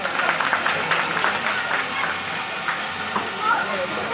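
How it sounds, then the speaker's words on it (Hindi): A crowd applauds at a Hind Aman Party meeting in Delhi's Dayalpur area, giving a continuous wash of clapping for several seconds with voices mixed in. "जोरदार तालियों के साथ स्वागत करें।"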